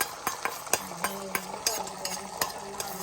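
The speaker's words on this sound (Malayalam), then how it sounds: "ഫ്രൈഡ് റൈസൊക്കെയുള്ള മുട്ട ചിക്കുകയാണ്." A spatula clacks against a frying pan while egg is scrambled for fried rice. About a dozen sharp taps come in quick irregular succession over a soft sizzle.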